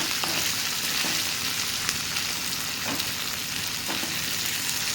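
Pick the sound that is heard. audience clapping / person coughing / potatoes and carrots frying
potatoes and carrots frying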